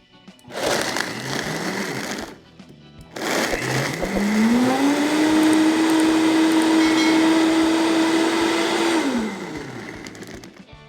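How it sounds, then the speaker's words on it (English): A Vitamix Vita-Prep 3 blender crushes ice for a margarita with limeade concentrate and agave syrup, giving two loud bursts, a short one and then a longer steady whir whose motor pitch rises, holds and winds down. "Pour in all the ingredients and blend until smooth."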